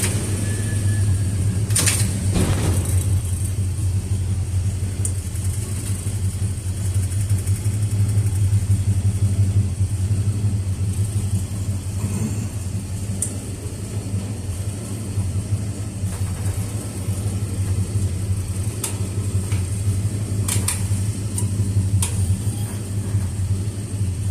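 Ford E150 van with a swapped-in 351W V8 heard from inside on a ride-along, its steady low engine rumble and road drone continuous throughout, with a few faint rattles and clicks over the top.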